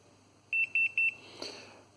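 A network cable tester signals a completed test with three short, evenly spaced high beeps, clear and close, followed by a soft faint click.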